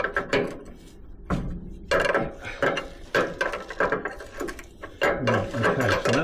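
A spanner works at a bolt on a Lansing Bagnall Model A mechanical horse in a shed, giving close, uneven metallic clicks and scrapes in irregular bursts with short pauses between.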